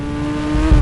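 Car engine in a fake GTA 5 video game, a short rising rev that swells louder toward the end over a steady low hum.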